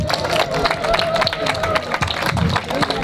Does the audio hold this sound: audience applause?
yes